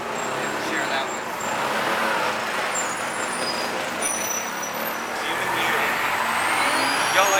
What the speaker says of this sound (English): y'all like that bus going by